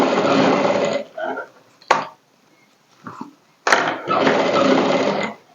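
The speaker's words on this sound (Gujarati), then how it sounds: "હવે આ રીતે ઉલટાવી અને એની ઉપર ડબલ સિલાઈ લગાવી દેવાની" A sewing machine runs a double line of stitching on a blouse seam, two loud sustained bursts of motor whirr separated by a quiet pause with a few light handling clicks and brief fabric shifting in between.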